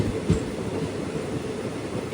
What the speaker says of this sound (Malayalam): ഈ റൂട്ടിലെ പ്രധാനപ്പെട്ട സ്റ്റേഷനായ അങ്ങാടിപ്പുറത്തേക്ക് ഇതാ ട്രെയിൻ എത്തുകയാണ്